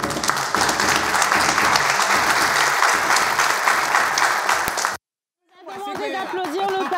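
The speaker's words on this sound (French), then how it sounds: "D'applaudir le pasteur." Audience applause for a pastor at a French-language gathering, loud dense clapping with chatter that cuts off abruptly, followed after a short silence by a voice speaking.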